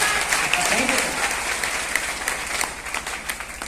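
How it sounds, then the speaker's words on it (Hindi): Sustained audience applause at an RCM business achievers' event, a dense wash of many hands clapping steadily throughout, fairly loud and continuous. "एक बार ताली बजाई दीजिए"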